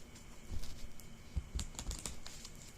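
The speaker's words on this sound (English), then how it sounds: "let me shuffle the Universal Tarot deck a couple more times" A Universal Tarot card deck is shuffled by hand in short, crisp bursts of riffling and tapping, close and fairly quiet, with no talking.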